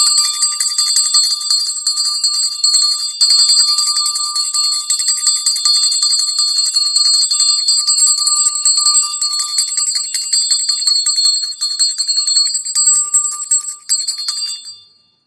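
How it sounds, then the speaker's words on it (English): A hand bell rung to call in the ancestors at the start of a spiritual reading, a bright, rapid, continuous jingling that rings loud and steady for about fourteen seconds before tapering off at the end. "ring my bell, and we'll get started on these cases"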